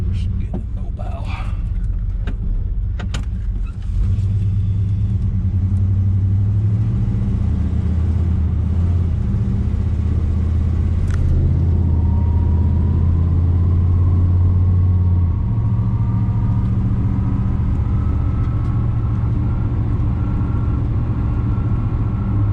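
A 1989 GMC service truck's engine rumbles steadily while driving, loud and close with a low droning tone that shifts slightly in pitch as the truck moves, and someone talks over it.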